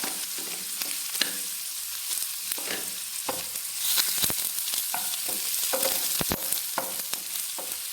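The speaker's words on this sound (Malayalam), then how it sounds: "മുളക് മൂപ്പിച്ച് മാറ്റി നമ്മൾ സവാള ഇട്ട് കൊടുക്കും ഒരു അരമുറി സവാള" Half an onion fries in a pan after chilies were roasted, a dense even sizzle with intermittent scrapes and clicks of stirring, loud and close, no voices.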